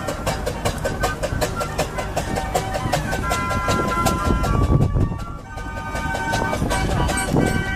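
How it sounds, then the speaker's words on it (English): Old single-cylinder steam engine hauling a load of logs at a vintage and country show, chugging steadily with an even, repetitive beat, mid-distance, amid outdoor fairground noise and a brief dip partway through. "That's lovely old single cylinder engine just paddling quietly around with that load of logs"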